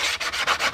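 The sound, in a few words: hand sanding plexiglass windshield edge with 180 grit sanding block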